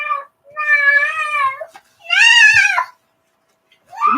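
A cat meows repeatedly, three drawn-out, wavering cries with short pauses between them, loud and close, with no other sounds around them.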